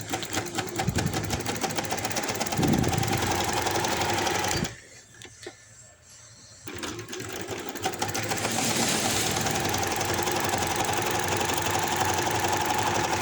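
A sewing machine stitches elastic into the waistband of palazzo pants, its rapid mechanical whir steady and close, breaking off briefly midway before resuming for a long run.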